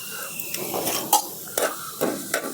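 Dry red chillies and curry leaves crackle as they temper in hot oil for an okra curry, a steady sizzle broken by several sharp spattering pops and a stir of the pan, close and alone.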